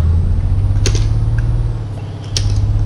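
A Scania truck engine in Euro Truck Simulator 2 idles with a steady low rumble, punctuated by two sharp clicks or hisses of air, loud and close throughout.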